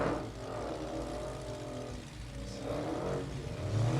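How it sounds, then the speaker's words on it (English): A Hellcat-powered drag car idles with a deep, continuous lumpy engine rumble, fairly faint and steady throughout, heard at a drag racing event with no talk over it. "I hear one that rumbles a little bit different over here on the left."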